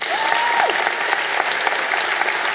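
A school prize-giving audience claps loudly and continuously, a dense even wash of applause throughout with a faint whistle-like tone briefly rising over it early on.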